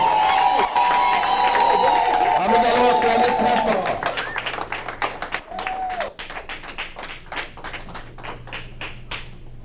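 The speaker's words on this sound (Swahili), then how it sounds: "piga makofi ya bien" Guests at a wedding applaud, first beneath loud singing or voices, then as a clear, steady, somewhat rhythmic run of claps from a crowd that thins out toward the end.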